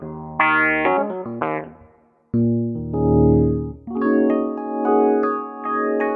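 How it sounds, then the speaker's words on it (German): A Nord Grand stage piano is played through a wah-wah pedal, giving short chords and sustained notes that sweep and swell in tone, close and clear with no talk. "Ich glaube, das Wah-Wah-Pedal ist noch unten."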